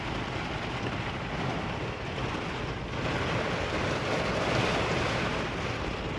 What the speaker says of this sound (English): I think we got a hurricane.